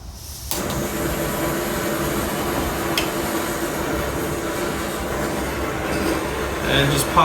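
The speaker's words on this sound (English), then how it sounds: "it's probably a little bit loud now with the stove going" A backpacking stove burns under a pot holding two cups of water, giving a steady, loud roaring hiss close by that holds throughout with little change.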